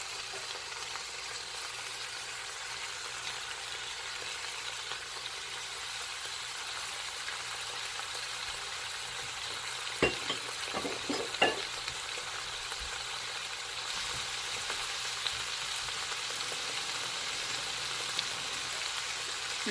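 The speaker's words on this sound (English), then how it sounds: "So now that I've rinsed my mushrooms, I'm just going to add them" Rinsed mushrooms tumbling into a kielbasa skillet already frying, giving a steady close sizzle with a few sharp clatters and pops at the drop, then the frying hiss carries on evenly.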